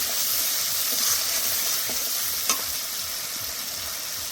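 Cabbage cut into large pieces fries in a hot pan, a dense, even sizzle and hiss running throughout, with a few faint clicks of stirring and no talking.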